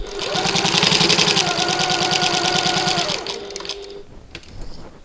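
Sewing machine back stitching through bag pocket pieces, a loud, fast, steady mechanical whir with rhythmic needle clatter for about three seconds, then stopping to quieter handling noises.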